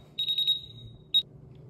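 A SENKO multi gas detector sounds its alarm: a rapid cluster of shrill, piercing beeps followed by a pause and one more short beep, loud and close in a quiet room.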